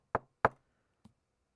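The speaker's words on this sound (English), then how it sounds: "I need to knock on the chalkboard or knock on the desk" Knuckles rap on a desk or chalkboard: two sharp, close knocks about a third of a second apart, then a softer third tap, in an otherwise silent room.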